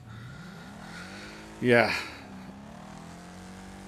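Race car engine droning steadily in the Wreckfest racing game, a mid-pitched hum that shifts pitch as the car takes corners, with a short voice and a brief loud burst in the middle.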